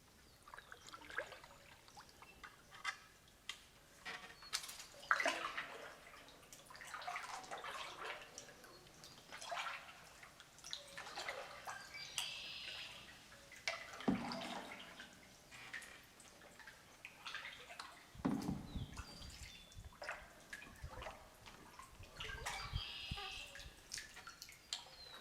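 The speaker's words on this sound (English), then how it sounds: "Water running right through here." Water trickles and drips through a cave where swallows nest, heard while kayaking; a steady close dribble with small splashes, and a few louder bursts of flow partway through.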